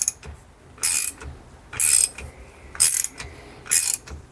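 A nut is tightened on a Kawasaki ZX130 motorcycle engine bottom end during a rebuild, four sharp bursts of metallic ratcheting clicks separated by short quiet pauses, close up and with no talk.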